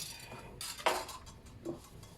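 Metal whisk and spoon being picked up and set down on a kitchen worktop, giving a few sharp clinks and rattles of utensils, one louder knock near the middle and a softer clink later, with no talking.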